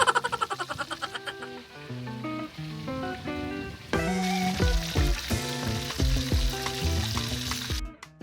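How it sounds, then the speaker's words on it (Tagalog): Tilapia frying in a pan gives a steady sizzle that sits beneath prominent tonal music throughout. "At nagprito na siya ng mga tilapia."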